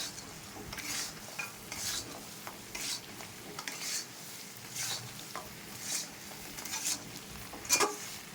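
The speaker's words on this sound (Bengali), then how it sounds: "ঘন ঘন নাড়তে হবে, ঘন ঘন না নাড়লে গজাটা নরম হয়ে যেতে পারে" Gaja sweets are stirred steadily in sugar syrup in a pan over high heat, with a spoon scraping at a regular pace over a soft sizzle, close and alone.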